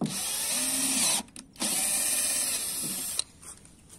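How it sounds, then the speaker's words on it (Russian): A cordless drill-driver whirs steadily at close range while mounting concrete formwork, stops briefly, then runs again before cutting off, leaving a few quiet mechanical clicks. "вот так сверлю"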